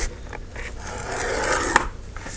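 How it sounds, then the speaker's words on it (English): Notebook cover material being cut by hand for a slip-on pocket sleeve, a short scraping, snipping sound close by, building to a sharp snip near the end. "And I hope I cut this straight."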